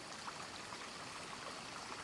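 River water flows in a steady, faint outdoor rush with a soft trickling texture, continuous and unchanging, with no voices.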